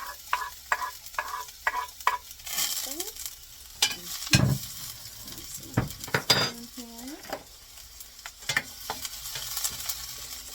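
Garlic and vegetables sautéing in a hot pan, steady sizzling broken by repeated scrapes and clinks of a spoon stirring against the pan, close and moderately loud, with no talking.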